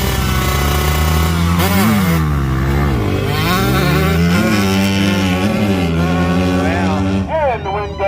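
KTM 125 and 250 dirt bikes drag racing, engines screaming loud and close with rising and falling revs through gear changes, a brand new 125 among them, voices talking over the din.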